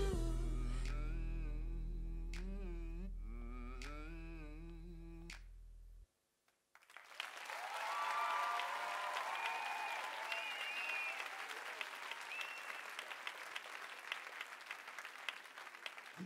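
Audience applause follows a sung performance at a talent night, a sustained dense wash of many hands clapping that starts after the last sung note fades and a brief silence, steady and fairly loud to the end.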